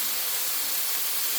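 Chicken liver and heart frying in a pan over low heat, a steady close sizzling hiss that stays even throughout with no voices.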